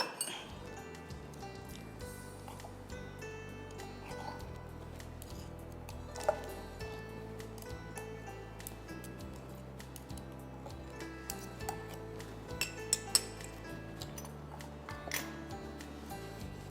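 A container holding sauce made with bell pepper and cream is shaken to mix it, producing a steady run of glassy clinks and rattles with scattered sharper knocks, close and fairly quiet.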